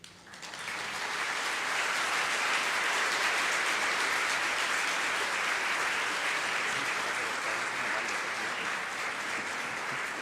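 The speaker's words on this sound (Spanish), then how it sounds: "fuerte el aplauso para la doctora Rosa María Torres Hernández" Audience applauding a speaker, a female doctor, at a national teachers' conference, a dense, loud, sustained roar of many hands clapping that swells quickly and holds steady for about ten seconds.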